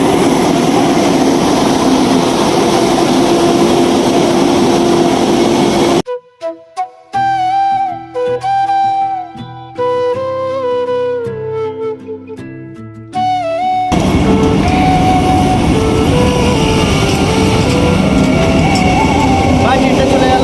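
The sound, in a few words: Vande Bharat Express train passing through a railway station at high speed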